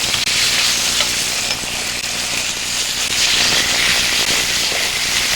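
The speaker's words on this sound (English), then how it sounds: "you should hear a nice sizzle when that chicken hits" Chicken pieces sizzle in a pan of hot oil, a loud, dense crackling hiss with scattered pops that holds steady throughout.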